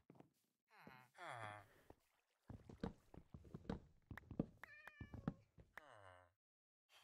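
Cats meow repeatedly in the video game Minecraft, several distinct meows with short pauses between them, fairly faint and alone without talk.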